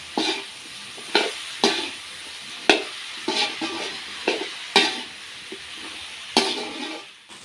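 Cauliflower sautéing in oil sizzles steadily while a spatula scrapes and tosses it in repeated sharp strokes, each stir bringing a brief louder burst of frying, close and without speech.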